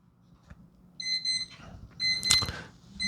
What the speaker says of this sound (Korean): 시간이 지나면 알람이 이렇게 울립니다.